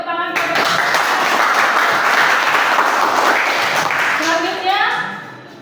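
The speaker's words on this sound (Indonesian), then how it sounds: "kita beri tepuk tangan kepada" A classroom of children gives a group steady, lively applause after a discussion presentation. The clapping runs for about five seconds, with voices heard at the start and as it fades.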